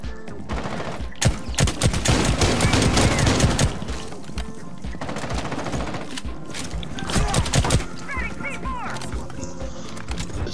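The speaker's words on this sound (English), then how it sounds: "Oh, it's a shotgun." Shotgun fire in the video game Rainbow Six Siege comes in loud, rapid bursts of heavy blasts, mixed with dense in-game combat noise that swells and fades over several seconds.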